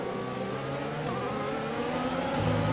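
A Renault Formula 1 engine in the racing game F1 2020, droning loudly and steadily at high revs, its pitch shifting slightly as the car runs at speed.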